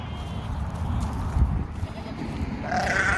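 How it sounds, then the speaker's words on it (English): Sheep and Savannah goats bleat on a farm, faint calls under a steady low rumble of wind or machinery, with a clearer bleat rising near the end. "Got a couple of sheep and Savannah goats."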